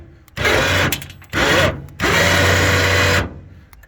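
A Harbor Freight electric winch motor whines in three bursts, a short run, a brief pause, another short run, then a longer steady pull, loud and close.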